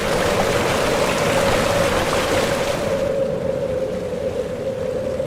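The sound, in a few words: gurgling of the Spiti river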